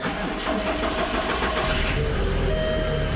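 A Volkswagen Beetle rally car engine runs steadily after starting, with a loud, continuous mid-pitched rumble close by and no talk.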